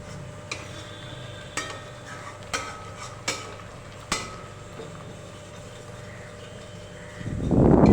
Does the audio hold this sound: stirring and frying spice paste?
yes